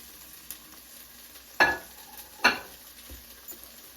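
Chopped onions go into a hot pot for white bean chicken chili, producing two sharp bursts of sizzle as they hit the surface, followed by quieter scraping and a faint steady background hiss.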